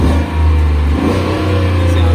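A V8 car engine revs loudly up close, a thick low rumble that swells briefly before settling into a sustained, throaty drone.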